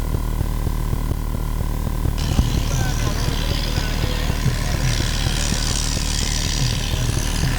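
A tractor engine runs hard at a tractor disc-ploughing competition, a loud continuous rhythmic diesel chugging throughout, with an announcer talking over it.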